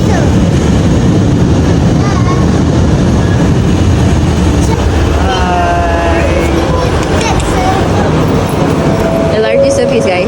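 A new LRT 3 Shah Alam light rail train roars loudly and continuously at close range, a dense rumble with faint squeals, while family members, including children, chat over the noise.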